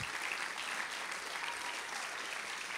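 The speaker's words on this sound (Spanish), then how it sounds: "Dale ese aplauso a Jesucristo si me estás entendiendo" A church congregation applauds during a sermon, a dense, even wash of many hands clapping together, steady and moderately loud throughout without a break or voices on top.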